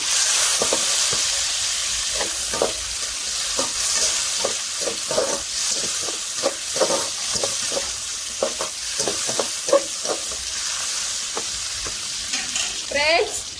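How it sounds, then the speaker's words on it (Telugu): Onions and chopped tomatoes fry in a pan, a steady close sizzle and hiss with repeated scraping stirs of a spoon throughout. "ఎర్రగడ్డలు వేగాయి. ఇప్పుడు తరిగిన టమాటాలు వేసుకుందాం."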